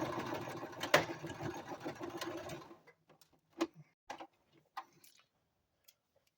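A sewing machine runs a burst of stitching across a toddler vest lining, including back stitches, then stops, leaving a few soft clicks and taps afterward.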